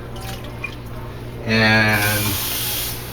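Water running from a kitchen tap to add to a beef ragu, a steady hissing splash that starts about midway and carries on to the end, with a brief word spoken over it.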